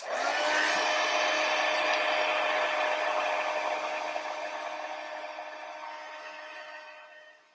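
A heat tool warming craft powder, blowing with a steady whirring, hissing hum that holds strong and then slowly tapers off before cutting out. The sound is close by with no talk.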